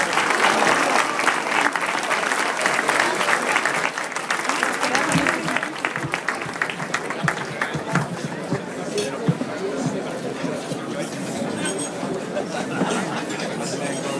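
Warm audience applause at a Mexican composers' day celebration after a thank-you for the food, continuous clapping mixed with chatter and crowd murmur throughout.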